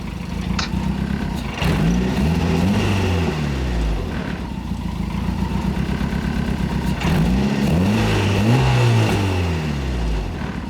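A turbocharged Mazda Miata engine revs hard on a two-step limiter, surging and falling twice with sharp crackling pops and bangs as flames shoot out, loud and close, with no talking.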